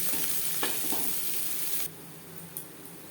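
Chopped onion frying in oil in a pan for a fish curry, a steady close sizzle with a few sharp clicks of stirring, the hiss dropping noticeably quieter partway through.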